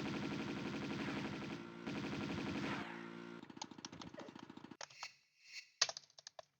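Rapid automatic Uzi fire in the video game Tomb Raider 2 in the Tibetan Foothills level, two dense, loud bursts followed by scattered sharp single shots and short game effects, with no talk.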